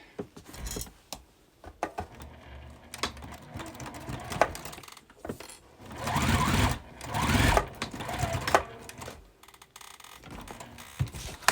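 Sewing machine running in bursts along a half-inch seam on a quilted bag, stitching steadily with short pauses and clicks between runs, close and fairly loud.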